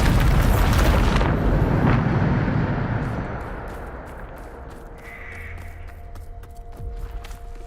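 A Bombarda spell explodes in Hogwarts Legacy with a loud, broad blast that fills the first two seconds, then fades into a low rumbling tail while sharp short ticks and a faint tonal hum continue.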